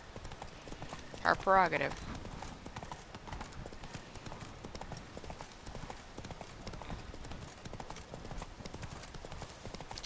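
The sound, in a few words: horse Roach galloping in video game The Witcher 3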